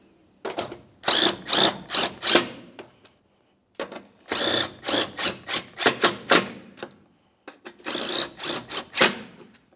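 A power tool snugs the bumper bolts on a 2005-2010 Dodge Dakota in three loud, close bursts of rapid rattling impacts, separated by brief silences.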